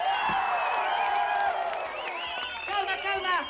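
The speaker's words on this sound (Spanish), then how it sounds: "Ahora quisiera pedir un aplauso para la banda" An audience at a 1983 Guaca-Rock concert claps and cheers for the band, a dense wash of applause and whoops running steadily for a few seconds, swelling near the end.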